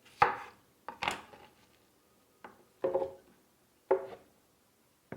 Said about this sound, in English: I like to chop it up a little bit just to give a little hand to the blender.